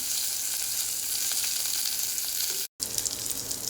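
Fenugreek seeds, urad dal, dried red chillies, curry leaves and asafoetida crackle and fry in hot oil as a steady, dense sizzle, with a brief dropout near the end before it resumes.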